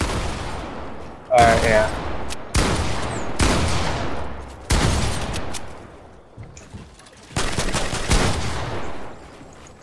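Video game gunfire in a multiplayer match: several loud, close bursts of rapid shots in separate volleys, with players talking briefly over the shooting.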